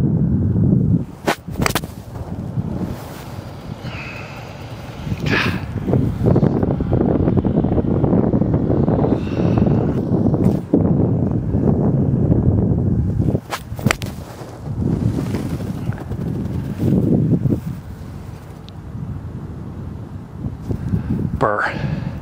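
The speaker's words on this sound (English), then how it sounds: "Riding up into the wind." Strong wind buffets a microphone outdoors at a golf driving range in heavy, uneven low rumbling gusts with sharp pops and a few faint background sounds.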